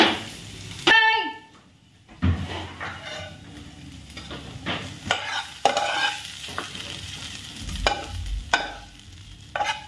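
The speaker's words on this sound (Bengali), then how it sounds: "তোমার পেঁয়াজ কলি ভাজা করছি অল্প করে" Onion stalks frying in a pan, with loud stirring scrapes and a steady sizzle, broken by bursts of clinking and stirring noises throughout.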